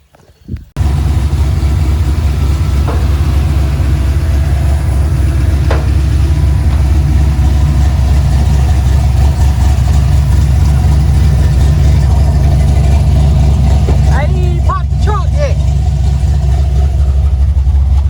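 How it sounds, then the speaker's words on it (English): A car engine runs steadily at idle after being restarted, a low continuous rumble holding even for the whole stretch with a few faint clicks and rattles near the end, no voices. "Cut the car back on."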